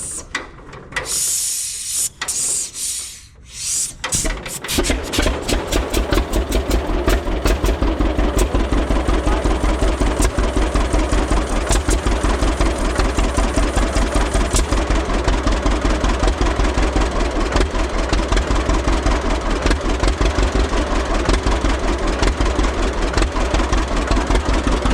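A 1941 John Deere AR tractor engine catches after a few seconds of quiet and runs on steadily, with a loud, even mechanical chugging and a rattling idle that carries through to the end.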